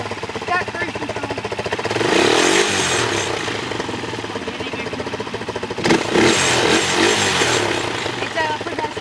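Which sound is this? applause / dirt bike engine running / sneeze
dirt bike engine running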